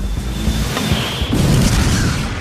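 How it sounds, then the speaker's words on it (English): A RAM missile launches from a warship with a loud, sustained rushing roar, rumbling and dense throughout, close and continuous for a couple of seconds, with no talk. "After launch, the missile spins at high speed, where its wings pop out to help it fly straight."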